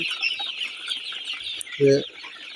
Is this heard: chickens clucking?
yes